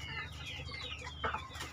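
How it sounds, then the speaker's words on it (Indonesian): Free-range hens cluck softly and irregularly nearby, a few short calls over faint farmyard background. "ayam sekarang bisa bebas diumbar. Ini babon-babon."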